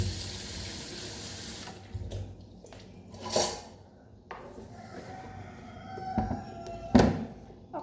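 Food is rinsed under a running kitchen tap before peeling for soup, water splashing into the sink in bursts with a few sharp clinks and knocks, fairly close.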